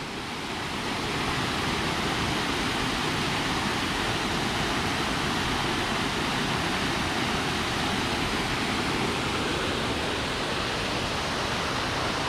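A creek at the start of a wooded hiking loop, a steady broadband rush of flowing water, close and continuous with no voices.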